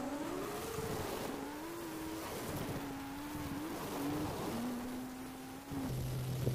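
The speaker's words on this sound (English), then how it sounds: "The tanks sound like giant motorbikes." A steady droning tank engine hum in the video game Battlefield: Bad Company 2, shifting pitch throughout, like a heavy motor grinding along, loud and close with no voices.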